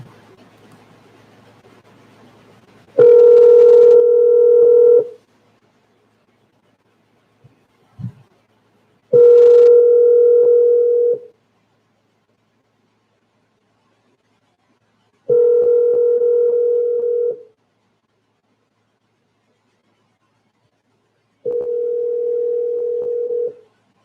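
A phone line rings out during a cold call: four long, evenly spaced ringback tones of about two seconds each, separated by silences, loud and clear with a brief click between.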